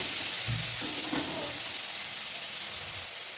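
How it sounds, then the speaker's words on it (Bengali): Ginger and tomato frying in oil in a pan for capsicum paneer, giving a continuous close sizzling hiss with a few soft stirring knocks early on. "আদা টমেটো এখানে দিয়ে নিয়ে একটু ভাজবো"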